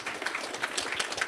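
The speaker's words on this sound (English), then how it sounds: "Big round of applause for Fred" An audience at a startup pitch event applauds, a soft, fairly distant patter of clapping that stays steady throughout.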